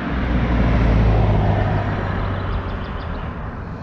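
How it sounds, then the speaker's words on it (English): Road traffic rushing past a roadside breakdown spot, a loud low rumble of a passing vehicle that peaks early and fades into a steady wash of road noise, with no voices. "Apart from all the traffic and the noise of the road."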